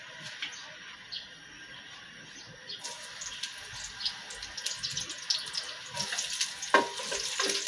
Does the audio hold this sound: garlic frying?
yes